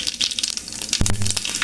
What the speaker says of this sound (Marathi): तेल गरम झाले, जिरे टाकून घेतले